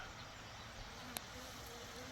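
A faint, continuous honeybee buzz hums at low volume near a hive, with a single small click near the middle.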